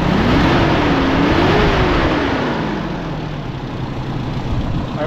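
A Toyota 5K engine idles close up after its ignition timing is advanced, a loud, steady low rumble whose pitch rises and then eases slightly, with no one speaking.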